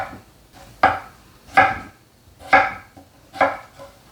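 Potatoes being chopped into small bite-size pieces for clam chowder, four crisp knife strikes on a cutting board at a slow, even pace, close and clear with no talking.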